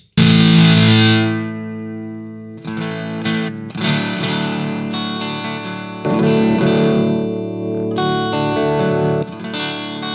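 Electric guitar through an Electro Harmonix Satisfaction Plus fuzz pedal with the fat knob engaged: loud, buzzy, saturated chords and riffs, played alone, with dense sustained distortion.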